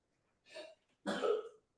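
Two separate coughs from a child, a short lighter one followed by a louder, harsher one, close by with silence around them.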